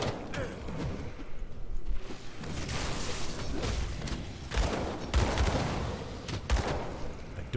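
A mortar in Grim Dawn fires amid a hardcore gunslinger fight, with several heavy thudding blasts near the end standing out over continuous rolling gunfire and crackling battle noise.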